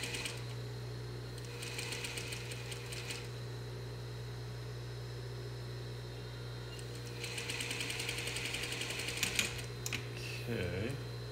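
A sewing machine stitches a seam on a doll dress in two short rapid runs of close, even needle chatter over a steady motor hum, with a quiet pause in between and a brief voice at the end.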